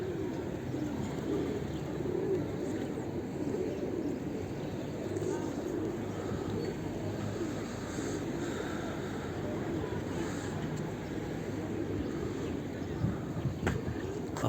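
Pigeons coo softly on a busy city street, their low calls mixed into steady traffic and crowd noise, with faint voices talking in the background throughout.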